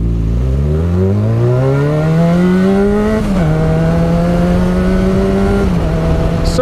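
A Yamaha FZ6R motorcycle accelerates hard, its engine note climbing smoothly through the gears with brief dips at two upshifts, loud and close with no voices.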